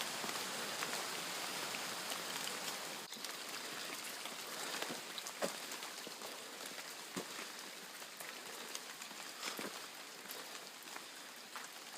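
Steady rain falls and patters on a surface, heard at moderate distance as a soft, continuous hiss with occasional sharper drops.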